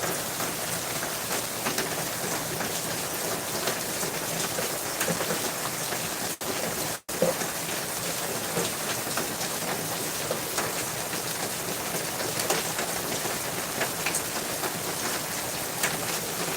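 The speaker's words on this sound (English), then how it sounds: "Raining." Steady rain falls outdoors as a continuous close hiss across the whole stretch, broken only by a brief dropout partway through, with no talking.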